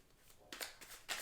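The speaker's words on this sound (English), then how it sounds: "One more shuffle." A deck of tarot cards being shuffled by hand, a few quick riffling bursts in just over a second, quiet and close.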